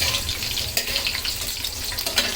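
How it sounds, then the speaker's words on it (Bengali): Broken dried chili sizzles and crackles steadily in hot oil in a pan, a close, even frying hiss with small pops for a couple of seconds. "এখন এটা একটু ভাজা ভাজা হচ্ছে মরিচটা"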